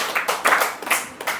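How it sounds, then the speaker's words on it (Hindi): Audience applause at a health talk, several bursts of clapping rising and falling over a short span, fairly close and lively with no voices on top. "इनके लिए ताली बजाइए"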